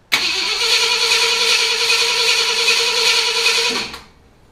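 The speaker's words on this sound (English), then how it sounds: "Well, here we go. Hopefully it doesn't spew gas everywhere." A 1966 Ford Galaxie 500 convertible engine cranks and catches, running loud and close at a steady idle for nearly four seconds before being shut off and fading to quiet.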